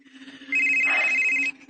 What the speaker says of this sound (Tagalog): Numero sa cellphone ni Boy Sarge